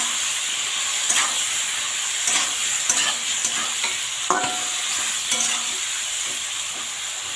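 Vegetable curry with lentil dumplings, seasoned with salt and turmeric, stirred in a hot pan: a continuous hissing sizzle with steam and periodic scraping strokes of the spoon, close and steady.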